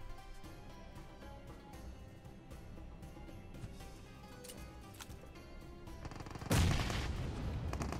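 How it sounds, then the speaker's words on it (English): Frag grenade in PUBG Mobile detonating with a single loud broadband blast partway through, its rumble lingering to the end, after a stretch of busy game ambience. "we confirmed the frag grenade does not have any cool effects, unfortunately, like the golden one does"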